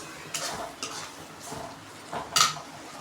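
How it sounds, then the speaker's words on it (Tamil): A ladle stirring chana masala in a metal pan, a few separate scraping clinks spaced irregularly, fairly close, with a faint sizzle beneath. "மறுபடியும் நல்லா கரண்டி வச்சு மிக்ஸ் பண்ணி விட்டுக்கோங்க"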